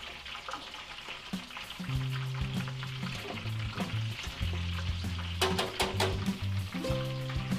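Food frying and sizzling in a pan while being stirred, part of Filipino fiesta cooking; steady loud sizzle with scraping stir strokes and clanks throughout, no talking.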